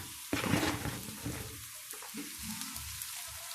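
Vegetables fry in a pot and are stirred and turned, a close sizzle with a loud scraping burst at the start that settles into a softer, steady frying hiss with no talk.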